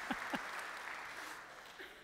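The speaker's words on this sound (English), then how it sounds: "Can you give him a round of applause?" Brief applause from a church congregation during a sermon, a steady wash of clapping at moderate volume with a couple of short voice bursts near the start.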